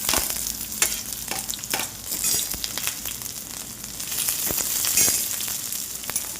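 Onion, tomato, garlic and ginger sauté in hot oil for matar paneer, giving a steady loud sizzle broken by scraping stirs of a spatula, with no voices.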